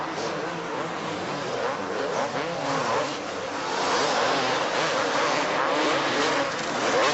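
Kawasaki motocross bikes racing at the 1984 Dallas Supercross, a dense, continuous roar of several engines revving and droning at mid distance, swelling slightly toward the end.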